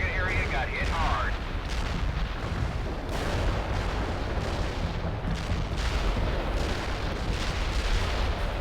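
Artillery barrage explosions in the real-time strategy game World in Conflict: Soviet Assault, a dense, continuous roar of blasts and rumbling impacts rolling on throughout, loud and unbroken.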